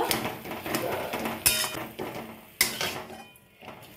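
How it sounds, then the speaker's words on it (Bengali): A spoon scrapes and clinks against a pan while mashed potato is worked into spices with bay leaf and dried chili for a masala aloo filling. The knocks are close and irregular, with two sharper hits. "ম্যাশ করা আলুটা দিয়ে দেব। খুব ভালো করে মশলার সাথে মিশিয়ে নেব।"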